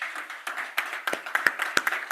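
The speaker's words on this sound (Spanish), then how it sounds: "Quiero dar un aplauso al doctor Pedro" Scattered applause from a small audience at a medical symposium, a few hands clapping unevenly and briefly, close and moderately loud with no voices.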